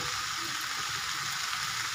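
Ridge gourd frying in its own water in a pan: a steady, even hiss of sizzling that runs unbroken for two seconds, then cuts off abruptly.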